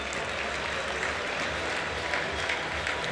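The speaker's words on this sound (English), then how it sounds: "a huge round of applause, please, for all of the female swimmers" Applause for the female swimmers of a 100 metres backstroke event at a national winter swimming championships, a steady, dense round of clapping from the crowd in an echoing indoor pool hall.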